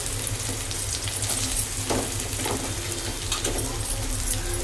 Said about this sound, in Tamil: அந்த எண்ணெயிலே கொஞ்சம் நேரம் வதக்கிட்டு